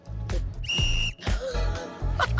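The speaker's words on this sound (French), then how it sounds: "Allez-y, sifflez un coup." A shrill safety whistle gives one short, loud blast, with brief noises around it.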